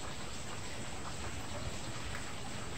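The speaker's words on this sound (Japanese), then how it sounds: "雨が降っています。" Steady rain falls throughout as a dense, even hiss, soft and unbroken with no distinct drops or talk.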